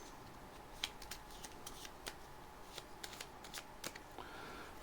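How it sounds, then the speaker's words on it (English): Board game cards from a Scooby-Doo deck being shuffled, a run of crisp riffling snaps and flicks close up, irregular bursts with no voices. "We've got a Scooby Gang deck that's going to be shuffled up a little bit"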